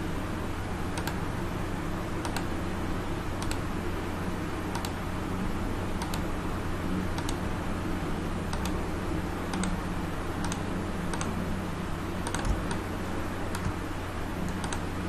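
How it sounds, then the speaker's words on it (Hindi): Mouse clicks while working in Photoshop, a steady run of light, sharp ticks at roughly one-second intervals over a constant low room hum, with no voices. "ये मैं क्लिक करता जा रहा हूं"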